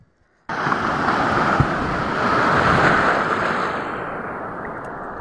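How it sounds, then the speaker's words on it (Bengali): Sea waves at Digha beach surge and crash in one long, loud, close wash of surf that rises and slowly fades, with no voices. "ওই ঢেউ এসে মারলো।"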